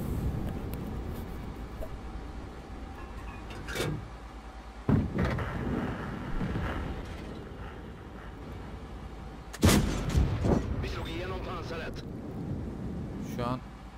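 Tank cannon fire in the World of Tanks video game, sharp loud blasts near 5 and 10 seconds over a steady engine rumble, with someone talking throughout.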